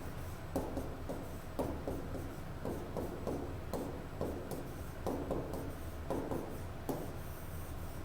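Pen or pencil writing out an algebra equation by hand on paper, a quiet, steady scratching in short bursts with brief pauses, close and alone without talk.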